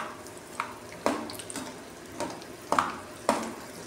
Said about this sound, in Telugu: పల్లీలు జాగ్రత్త వేయించేటప్పుడు నూనె మీద చిల్లుతుంది.